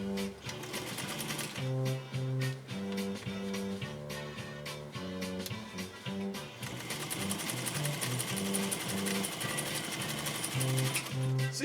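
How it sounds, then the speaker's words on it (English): A repaired heirloom Pfaff 230 sewing machine runs in quick rhythmic bursts of stitching that speed up into a continuous chatter. It sounds fairly quiet, with music playing in the background. "You've heard the machine running a lot already."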